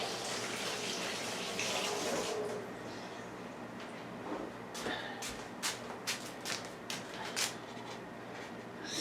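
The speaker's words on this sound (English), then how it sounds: "Let me just rinse my hands and then I'll be right back." Running tap water as soil is rinsed off someone's hands, a steady broad rush for about two seconds that then stops, followed by scattered clicks and light knocks.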